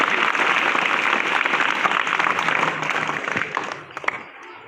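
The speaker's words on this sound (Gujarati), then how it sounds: "જોરદાર તાળીઓ।" Sustained applause from a school audience at an Independence Day (15 August) celebration in Mandvi village, a dense steady clapping that thins out and tapers off near the end, with no talk over it.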